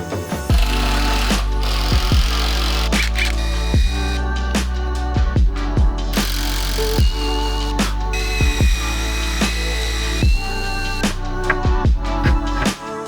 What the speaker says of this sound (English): what I'm going to do actually is drill 2 1/4-inch holes into here and drop these hex bolts in them